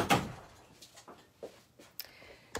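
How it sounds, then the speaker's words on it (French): A workshop door swings shut with a soft thud at the start, followed by several faint knocks, clicks and latch sounds in a quiet room. "je vais fermer la porte de mon atelier"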